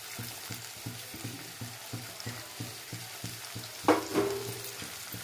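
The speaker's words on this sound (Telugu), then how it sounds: "దీన్ని బాగా ఫ్రై చేసుకోవాలి." Onions, green chillies and curry leaves fry in a pan of oil for a chicken curry, with a steady close sizzle and regular scraping strokes of stirring, plus a louder clatter near the end.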